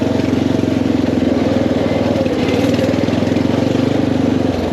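A Cushman Truckster utility vehicle's swapped-in engine idles steadily and loudly up close, a throbbing mid-pitched chug with a fast regular pulse that holds through to the end.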